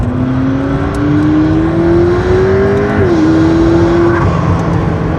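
A McLaren P1 supercar engine revs loud and close, its tone climbing steadily, briefly dipping, then holding high before dropping away, with no talking.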